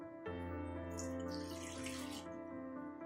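Water pours steadily into a ground coconut and cashew mixture, a continuous splashing stream with a hollow resonant tone, close and fairly loud, starting abruptly and running without talk.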